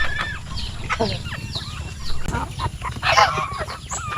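Farm chickens cluck and chatter continuously while being fed, several birds close by, with rustling and a brief human voice in the background.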